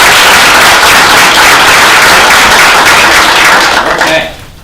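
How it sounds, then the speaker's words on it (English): A room of people at a school board meeting applauding: dense, loud, continuous clapping that stays level for about four seconds and then quickly dies away, with voices mixed in. "Let's give the man a round of applause."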